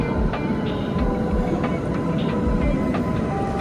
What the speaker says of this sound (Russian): А вот и наш трамвайчик.